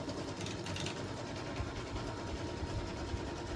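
Sewing machine stitching a placement line for batting on a patriotic eagle mug rug, a quiet continuous whirring hum with fine rapid mechanical ticks throughout, steady and alone.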